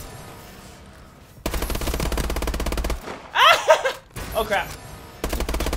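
Bursts of automatic gunfire in Call of Duty, loud and close, with a long sustained stream, a short pause, then more firing, and a voice reacting briefly in the middle.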